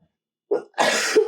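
A single harsh cough bursts out, followed by a longer, raspy throat-clearing cough, close up with no talking.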